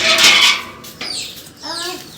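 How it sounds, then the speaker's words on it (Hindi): Chickens and a rooster cluck and squawk nearby outdoors, several loud short calls in quick succession. "ये हमारा मुर्गा है।"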